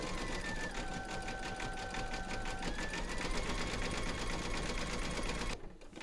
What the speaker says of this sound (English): stitch round number four, and that's going to do the satin stitching around here and the surfboard detail